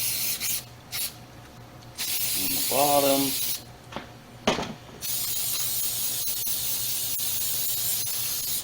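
Short hissing bursts of spray adhesive from an aerosol can, a few separate sprays with a brief spoken remark in between.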